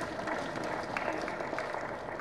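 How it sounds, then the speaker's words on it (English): Audience at an engineering annual lecture applauding, a fairly faint wash of scattered clapping from a seated crowd heard from a distance. "Can you clap for all of them?"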